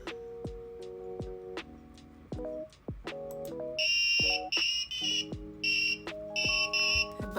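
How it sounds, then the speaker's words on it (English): Short electronic beeps from a buzzer on a Raspberry Pi robot sound in choppy bursts, mixed with plucky tonal blips and rapid ticking, all fairly quiet. "That buzzer sounds sick."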